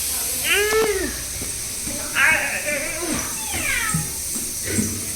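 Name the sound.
cat meowing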